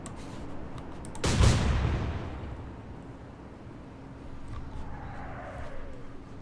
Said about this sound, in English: Might as well fire off some cannons.